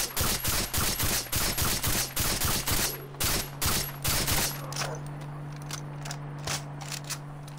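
Suppressed MS16 assault rifle fire in Far Cry 3 cracks out as rapid bursts of close, punchy shots with mechanical clatter, then gives way to a steady low hum and a few fainter shots.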